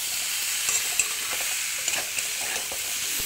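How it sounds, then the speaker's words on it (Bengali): Taro and fish sizzle and crackle steadily in hot oil in a pan, with scattered spoon stirs and scrapes clicking through the close, continuous frying hiss. "একটু ভেজে নেবো"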